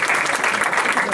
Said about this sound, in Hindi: बेहद तालियां आपके लिए